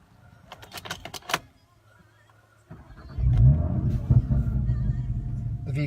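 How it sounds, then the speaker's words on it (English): An Audi RS3 pre-facelift fitted with an immobiliser, heard first as jangling keys and clicks, then a pause before the engine cranks and fires into a deep, loud idle rumble with a brief rev. "Now if we start the vehicle,"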